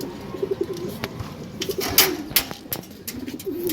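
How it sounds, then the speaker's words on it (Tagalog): A racing pigeon returning to its loft after a training toss coos in soft repeated low rolls, close by, with scattered clicks, wing flutters and rustling around it. "Ayan na po ang ating ibon."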